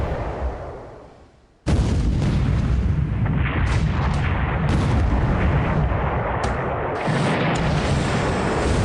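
Naval bombardment gunfire in a WWII strategy game erupts after a fading quiet lull, becoming a dense, continuous barrage of heavy booms and crackling shots that stays loud to the end.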